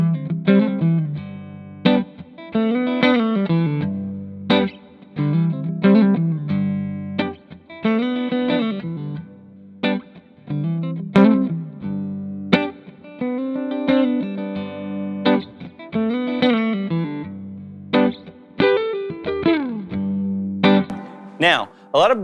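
Electric guitar played through a Devilcat Jimmy tube amplifier, a series of strummed chords and riffs with crisp attacks and ringing, slightly driven sustain, punctuated by brief pauses, close and clear with no talking.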